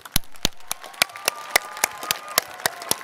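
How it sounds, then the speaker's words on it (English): Scattered hand claps from a small audience at a 2012 School of General Studies class day ceremony, about a dozen distinct claps in a steady, sparse rhythm, close and fairly crisp, with no voices. "So round of applause for Dean Ahn."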